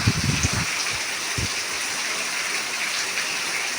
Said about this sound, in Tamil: பாருங்க மழை பெய்யுது.